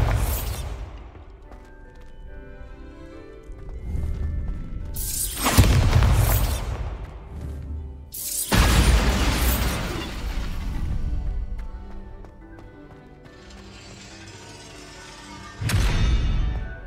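Bombarda blasting spell bursts in the Hogwarts Legacy video game, several loud booming explosions with crackling debris and whooshes, spaced a few seconds apart over a low rumbling game soundtrack.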